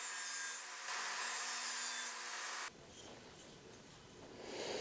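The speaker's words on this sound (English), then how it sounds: "All right, so now we're just cutting off the last piece here. We just need a 45-degree angle on the bottom here." A hand saw cuts 45-degree angles in wood on a miter sled, a steady loud rasping stroke that runs for a few seconds before stopping, leaving quieter scraping and handling noise alone with no talk.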